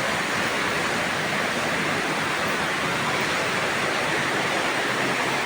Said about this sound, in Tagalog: Grabe yung lakas ng ulan guys.